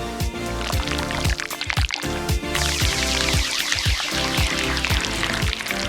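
Cleansing foam squished and worked onto a paper doll's face, wet squelching and dripping sounds in quick repeated bursts, close and fairly loud throughout.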